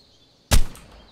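A single arrow strikes a Barioth in ARK Survival Evolved modded play: one sharp, loud impact thud with a brief rattling tail, alone against near silence.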